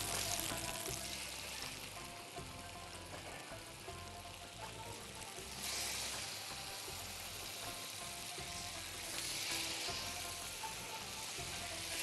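Boneless chicken sears over high heat in a hot pan, giving a soft, steady sizzle and crackle that swells in places, with no talk over it.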